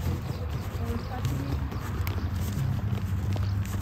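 Horse hooves clip-clopping on the ground of an outdoor riding arena during bridleless jumping training: a steady, moderately close rhythm of hoof falls, with people talking over it.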